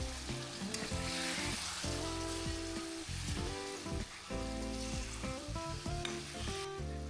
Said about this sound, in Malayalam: പിന്നെ ഇതിലേക്ക് നേരത്തെ നമ്മൾ മാരിനേറ്റ് ചെയ്ത് മാറ്റി വെച്ച ചിക്കനെ ആഡ് ചെയ്യാം.